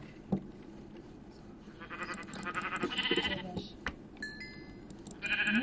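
Sheep in a survival video game bleat several times in short, nasal calls, with faint game ambience between them.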